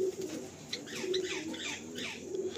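Pigeons in a loft coo softly in repeated low phrases, with scattered chirps and light rustling, fairly faint and close, no talk over them.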